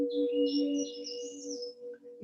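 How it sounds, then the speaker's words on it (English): Birds sing outdoors beside a tree-lined trail, their soft high chirps and trills drifting over a steady low hum and fading out near the end. "You can hear the birds."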